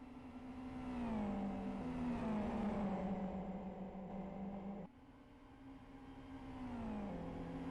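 GT Cup race cars in a sprint race at Blackwood, rolling over curbs: steady, fairly distant engine drone with rising and falling pitch as the cars accelerate and shift, carrying on without pause.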